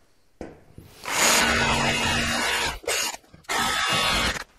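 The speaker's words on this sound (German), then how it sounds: "mit einer Bohrmaschine mit Kabel geht das deutlich besser" Corded electric drill boring into an iron plate mounted on a wall: a loud, close, sustained grinding whine that cuts off briefly, gives a short burst, then resumes for a final long run.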